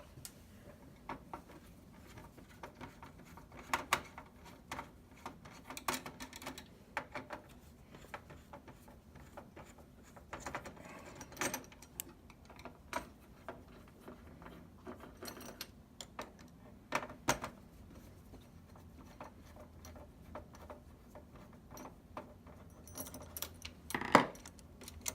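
Small screws are backed out of a PS4 Pro console during a disc drive replacement, giving faint, scattered metallic ticks and light clicks over about twenty-five seconds of quiet workbench ambience.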